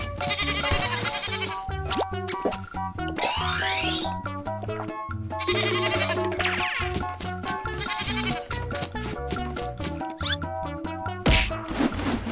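A cartoon goat bleats amid bouncy, loud children's music, the wavering animal cry standing out briefly among the musical notes and sound effects.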